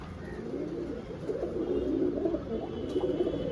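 Murshidabadi playing and flying pigeons for sale coo continuously up close, soft throaty calls overlapping with a faint background hum.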